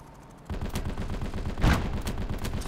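A 37 mm anti-tank cannon fires in the World War II video game Gates of Hell, a steady loud rumble of battle with one sharp, heavy blast in the middle.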